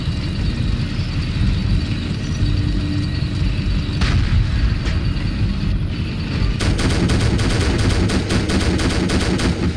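Sustained, rapid machine gun fire in the Faces of War video game, loud, dense and continuous, with bursts of rattling shots overlapping booms, growing denser in the second half.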